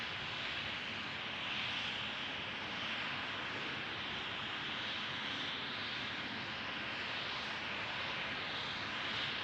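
A KLM Embraer 190 jet airliner departing Amsterdam Schiphol, a faint, steady engine roar heard from a distance that holds evenly with no voices.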